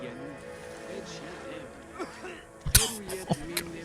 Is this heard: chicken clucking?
no